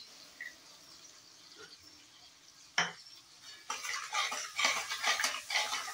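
A utensil stirs spice paste into a pan of curry for vegetarian mater paneer, starting with a faint scrape and a single clack, then moving into steady, close scraping and sizzling that builds in the second half.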